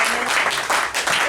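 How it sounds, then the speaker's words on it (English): An audience at a comedy night applauds, a dense, close burst of clapping that fills the room and fades slightly after about a second. "Another round of applause to the owner and Hijinks for getting this together and coordinating."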